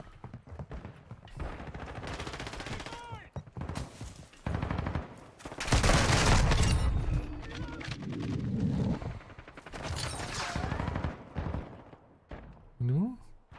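Bursts of pistol fire in Call of Duty Modern Warfare 2, sharp gunshot clusters broken by quieter gaps, with someone talking over parts of the action.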